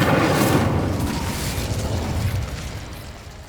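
Incendio fire spell cast in Hogwarts Legacy, heard as a loud whooshing fiery burst that roars up at the start and slowly fades into a rumbling tail.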